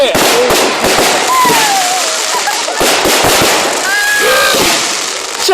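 Fireworks at a public display burst in a rapid series of sharp cracks and pops, with whistling rockets rising between the bangs, loud and near, and no clear talk.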